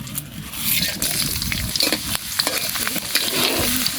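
Panch phoron, dried chillies and garlic dropped into hot oil in a kadai, crackling and sizzling loudly and continuously with stirring, up close.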